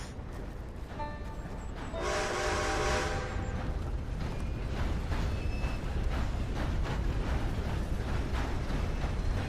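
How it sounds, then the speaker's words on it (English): A steam train in the video game Red Dead Online rumbles past, its loud horn or whistle sounding clearly for about a second before a steady, heavy rolling roar of the passing engine and cars fills the rest. "This steam train is coming by, so we'll just watch this."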